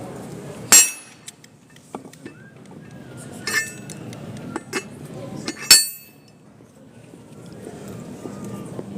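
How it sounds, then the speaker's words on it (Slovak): A hammer striking a coin during coin minting at a museum night event in Košice, producing two sharp ringing metallic clanks several seconds apart, with faint crowd murmur and smaller clinks between them. "takto som si vyrazil túto mincu"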